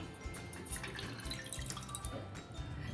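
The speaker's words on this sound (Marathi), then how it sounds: "चहा बनवण्यासाठी मी चहाचं भांडं घेतलेलं आहे त्यामध्ये आपण एक कप पाणी घालूया" Water pours from a cup into a metal tea pot while tea is made in a home kitchen, a short, close, steady splashing trickle with no talk over it.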